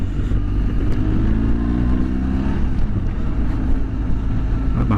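A car engine drones loud and steady from inside the cabin as it accelerates to overtake on a road posted at 80 km/h, with rising low tones and a constant rumble.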